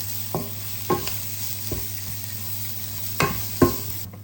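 Onion and garlic sauté in a pan for chicken tinola, giving a soft continuous sizzle under several sharp scraping stir strokes and clanks of a utensil against the pan, close up.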